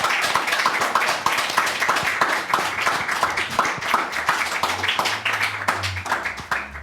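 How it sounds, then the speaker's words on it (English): A small audience claps for a panel after a studio discussion about body image, the individual claps distinct and uneven rather than a dense roar, with a faint low hum toward the end. "So I'll give them a round of applause."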